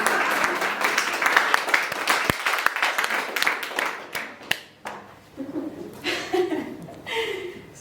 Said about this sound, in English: I think I'll have a round of applause for that.